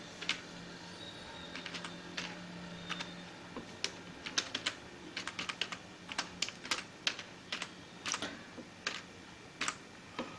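Fast, uneven clicking of typing on a computer keyboard, clusters of close keystrokes with short pauses, heard alone without talk.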